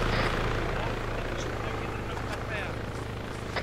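Helicopter rotor and engine noise in a Pablo Escobar video game, a loud steady drone throughout with voices talking over it.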